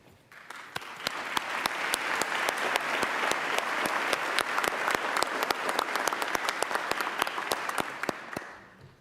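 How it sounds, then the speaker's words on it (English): Sustained audience applause at a university presidential inauguration ceremony in Indianapolis, dense clapping from a large crowd with sharp individual claps, swelling quickly, holding steady for several seconds, then tapering off. "because of the rightfulness of the applause for this situation"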